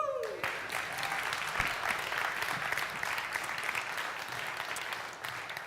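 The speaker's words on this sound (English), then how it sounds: "You can clap for that." Church congregation applauding in a steady wash of clapping that fills the room, moderately loud and sustained before tapering at the end, with faint voices underneath.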